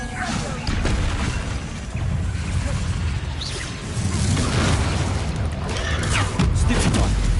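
Bombarda and Confringo explosion spells in the video game Hogwarts Legacy, a steady barrage of loud booms, crashes and whooshes packed closely together, mixed with game music and a voice underneath.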